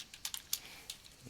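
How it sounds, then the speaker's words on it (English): Someone types quietly on a computer keyboard close by, a short run of uneven clicking keystrokes with no talk. "kind of typing that off screen"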